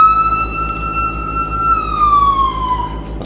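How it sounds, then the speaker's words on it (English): A wailing ambulance siren, loud and close, holds a steady tone then slowly drops in pitch, with road rumble underneath. "That's probably the ambulance."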